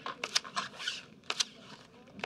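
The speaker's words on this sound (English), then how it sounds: "this shoe really needs to shuffle" Playing cards from a blackjack shoe are shuffled in a few quick, crisp riffling bursts, fairly faint and close, with brief pauses between them and no voices.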